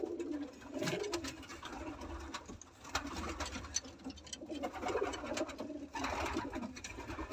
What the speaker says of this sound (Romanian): Un porumbel frumos.